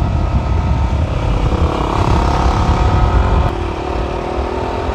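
A stock-exhaust KTM Duke 200 motorcycle on an evening ride drones loud and steady throughout, its engine note holding near constant with slight easing of revs late, no speech.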